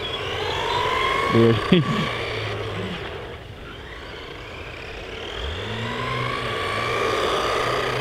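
A WLToys 104009 1/12-scale 4WD RC monster truck runs at full speed on its included battery, its electric motor whining and rising in pitch as it accelerates past, with someone talking over it.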